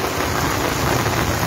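Heavy torrential rain in Jammu pours down as a dense, unbroken hiss of drops striking surfaces, loud and close, with no voices.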